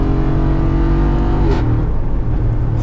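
A modified Jeep Wrangler Rubicon 392 with a naturally aspirated 6.4 Hemi V8 pulling hard from inside the cabin, a loud continuous deep engine roar with a brief shift change midway.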